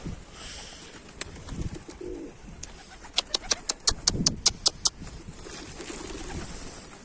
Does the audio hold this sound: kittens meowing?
no